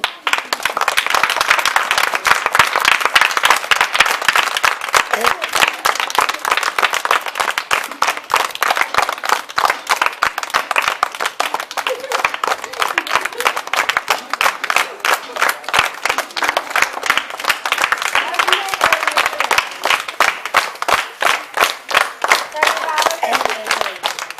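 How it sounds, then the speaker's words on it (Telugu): An audience breaks into loud, sustained applause at a classical music performance, dense clapping close by that holds steady throughout with a brief murmur of voices beneath. "మీరు మళ్ళీ చప్పట్లు కొట్టాలి మళ్ళీ ఒకసారి"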